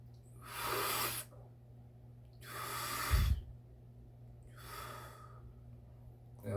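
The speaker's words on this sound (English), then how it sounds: "There's also one where you breathe all the way in, then you breathe in additionally." Three deep pranayama inhalations, each a long, airy breath drawn in through the nose for about a second, separated by pauses, close and fairly loud, with no talking.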